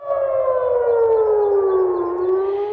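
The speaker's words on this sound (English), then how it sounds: "Air raid sirens ringing out across Jerusalem today." A civil defense air raid siren wails steadily across Jerusalem, one long sustained tone slowly sliding lower in pitch, loud and alone.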